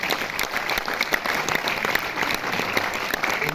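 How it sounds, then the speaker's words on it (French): An audience in a hall claps warmly for an author present at a book presentation about Gérard Philipe, giving dense, sustained applause that stays even and fairly close throughout, with no talk over it. "Oui, vous pouvez l'applaudir."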